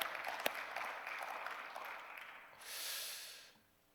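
A burst of applause from a church congregation swells briefly and then fades, following a stretch of breathy noise.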